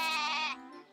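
A cartoon goat gives a single loud, close bleat that lasts about half a second and then fades. No speech is heard.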